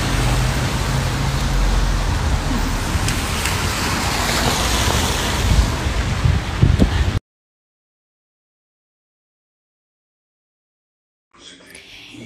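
Rain on a cold Sunday falls as a dense, steady hiss, with a rumble of passing road traffic underneath, then cuts off abruptly into silence before a brief burst of sound returns.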